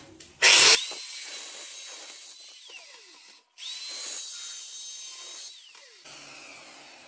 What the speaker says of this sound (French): tu vas couper juste sur ton trait sans traverser le carrelage